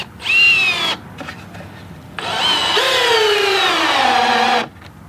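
An electric drill runs in two bursts, first a short whine and then a longer one whose pitch slowly drops as it works, close and loud with no talk.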